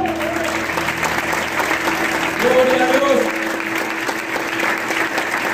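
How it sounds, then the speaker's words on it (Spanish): A church congregation at a Sunday service applauds steadily through the whole stretch, a dense wash of clapping beneath a voice speaking and praising over it. "Si le puedes aplaudir"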